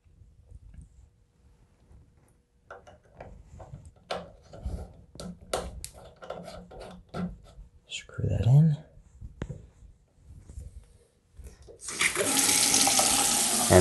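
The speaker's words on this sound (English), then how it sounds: "And there's our nice regular flow of water." Water running from a newly installed bathroom vanity faucet with the aerator fitted, a steady loud hiss of flow starting near the end after quiet handling noises and soft speech.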